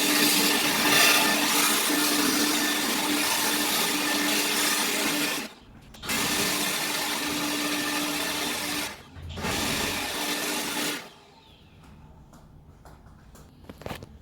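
NASUM 40V 4.0Ah cordless leaf blower running at regular speed outdoors by a porch, a loud steady whirring roar that cuts out briefly twice before stopping, leaving quiet surroundings.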